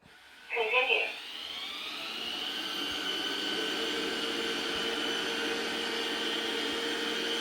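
An Ultenic T10 robot vacuum-mop starts cleaning a room with a short electronic chirp, then settles into a steady, moderately loud motor whir with a high whine that holds unchanged for several seconds.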